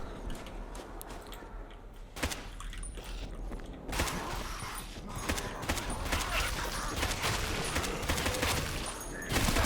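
Gunfire from a shotgun-style weapon in the zombie shooter Left 4 Dead 2, sharp broadband shots scattered irregularly amid busy game noise and clatter, fairly loud and continuous over roughly ten seconds with no talk.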